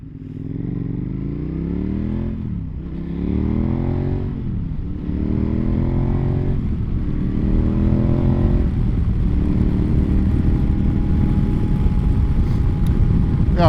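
A motorcycle rides through traffic in Arizona, filtering between cars, its engine droning steadily with several rising and falling shifts through the gears, under constant wind rush and road noise.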